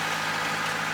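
A sailboat's engine runs steadily on a windless passage toward Cape Verde, a continuous droning hum with no variation; no one speaks.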